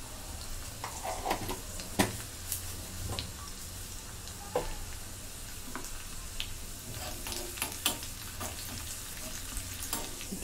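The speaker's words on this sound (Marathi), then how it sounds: "लसूण चांगला तांबूस रंगावरती भाजून घेते." Chopped garlic and cumin frying in hot oil for a tempering, a continuous soft sizzle with scattered stirring clicks and taps of a utensil against the pan, fairly close and without speech.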